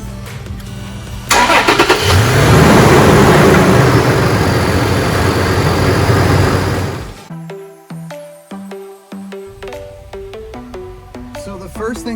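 Supercharged third-generation Toyota Tacoma pickup with a Magnuson kit, the engine starting with a loud burst and then revving steadily up close, before dropping away as music comes in over quieter running.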